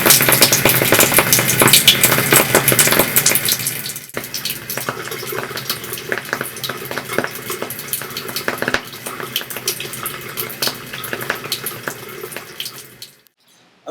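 Kangen water fizzing with active hydrogen, a steady close-up hiss of bubbling and running water that is loud at first, softens slightly, then cuts off near the end.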